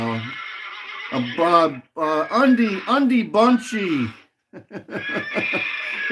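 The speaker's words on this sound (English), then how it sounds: "we're unleashing the horses" Repeated loud horse whinnies and neighs, several shrill descending calls in quick succession with a short gap, heard alone as a close, punchy sound effect.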